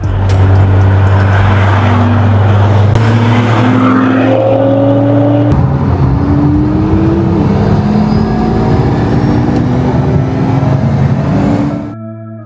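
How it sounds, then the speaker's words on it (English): A convoy of Nissan Skyline GTRs drives through Wales, engines droning loud and close with repeated rising gear-change whines and steady road roar, no talk, easing off at the very end. "the view of seeing all these GTRs driving through Wales"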